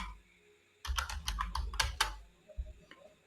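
Rapid keystrokes on a computer keyboard, a dense burst of clicky taps close up for about a second and a half, then a few scattered single presses fading into quiet.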